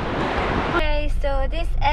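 Strong wind at Lake Moogerah roars and buffets the microphone for under a second, then a voice starts talking.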